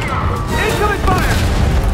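Incoming fire and explosions in a Fortnite end-event battle, with a dense, continuous roar of booms and blasts sustained throughout, loud and close, with voices talking over it.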